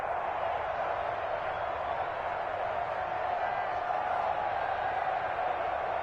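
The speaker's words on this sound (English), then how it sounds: "the crowd getting into it as we come up on a big 3rd down" Steady roar of a football stadium crowd cheering during an NFL game ahead of a big third down, a constant wash of distant voices with no break.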